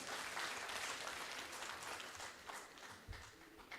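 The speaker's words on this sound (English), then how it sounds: "A big round of applause for him" Delegates at the annual conference of the J&K chapter of the Association of Surgeons of India give a big round of dense, continuous applause for Professor Ejaz Malik, steady and close throughout with no talk over it.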